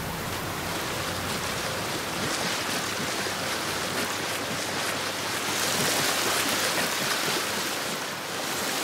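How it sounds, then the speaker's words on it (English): A waterfall in the video game Gears 5 gives a steady, broad rushing roar of falling water that holds even throughout and swells slightly near the end, heard on its own. "Behind the waterfall."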